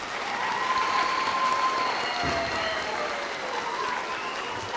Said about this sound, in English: let's give them one last round of applause for our 7th graders